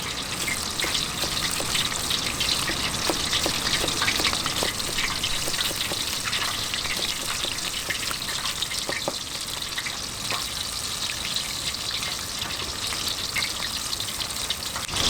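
Small sanddab fillets, a mini halibut-type flatfish, frying in a hot pan with a steady, loud, continuous sizzle and spatter heard up close throughout, with no voices.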